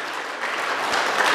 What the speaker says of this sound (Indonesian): Tepuk tangan untuk seluruh warga HKBP yang ada di sini.